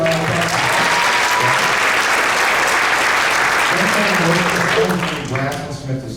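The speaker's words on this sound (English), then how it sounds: "Big round of applause" An audience at a sixth-grade winter concert gives loud, sustained applause for the French horn players, continuous clapping that tapers off near the end as a voice begins to speak.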